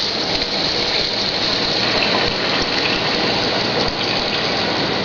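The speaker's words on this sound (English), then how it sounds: "I'm going to add some hot water." Hot water pours steadily into a pot of chicken and sausage gumbo, a continuous loud gushing and splashing stream that runs unbroken for the whole stretch with no talking over it.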